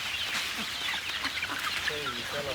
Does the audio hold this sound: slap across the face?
no